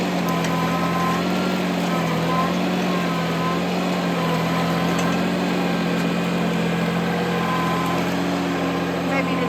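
A 25hp tractor fitted with a grapple runs its hydraulics, a steady loud engine drone with a strained whine held throughout, continuous and close with no pauses.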